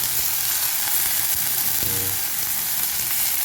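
Shredded cabbage sautéing in a hot pan as filling for veg puffs, giving a steady close sizzle and fry with a brief clatter of stirring partway through.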